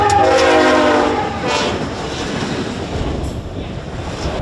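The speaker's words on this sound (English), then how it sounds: "Train's coming" A train comes along the tracks outdoors on a goose hunting trip, opening with a loud horn blast and then a rolling rumble of wheels and rail clatter that fades slightly as it continues.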